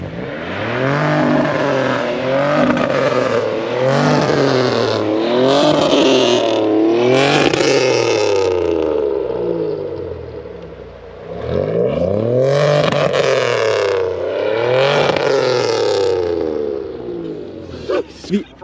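A loud car engine revs hard at a car meet, roaring in repeated surges that rise and fall and echo around the space, with only a brief dip partway through.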